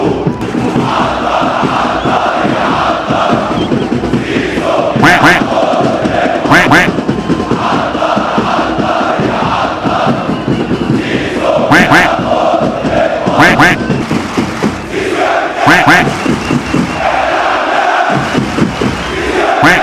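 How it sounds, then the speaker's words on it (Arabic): Football stadium crowd chanting insults at Zizo, a loud, continuous mass of voices with rhythmic chant phrases and sharp whistles or shouts rising above it at intervals. "بعد ما سكتوا الجمهور بيقول تاني عايزين يكملوا شتيمه في زيزو"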